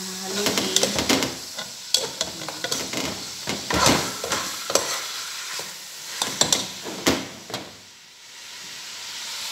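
Food gets stirred in a hot frying pan, irregular scraping clatters over a sizzling hiss, with bursts of steam noise that fade toward the end.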